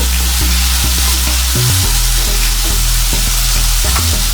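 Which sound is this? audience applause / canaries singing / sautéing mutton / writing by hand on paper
sautéing mutton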